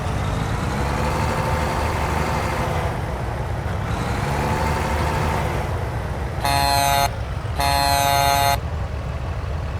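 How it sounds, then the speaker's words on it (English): In a truck-driving video game, a truck's air horn sounds two loud, separate blasts near the end, each under a second long. A continuous low engine rumble runs underneath throughout. "I need to get trucks with better horns, or better horns on the trucks."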